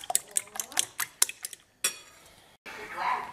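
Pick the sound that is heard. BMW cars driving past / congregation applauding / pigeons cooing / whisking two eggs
whisking two eggs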